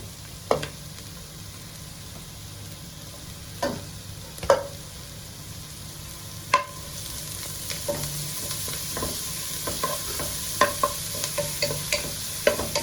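Onions with chopped ginger and garlic frying in a pan for a South Indian crab ghee roast, a steady soft sizzle broken by scattered scraping taps of a spoon stirring against the pan, close and unhurried, no talking.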